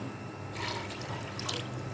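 Water poured into a pot of soaking lentils for Memoni beef daal gosht, a close, steady splashing and gurgling that grows fuller partway through, with no talking.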